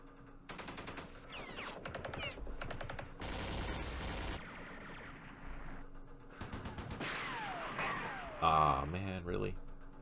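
Gunfire in Campaign Series Middle East during the Battle of Jerusalem, made of repeated loud bursts of automatic fire and single shots stretched over several seconds, then a heavier crashing impact near the end.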